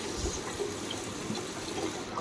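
Cold tap water runs steadily into a sink while something is washed, a continuous close splashing flow with no voices.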